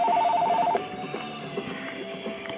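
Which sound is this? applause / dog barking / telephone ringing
telephone ringing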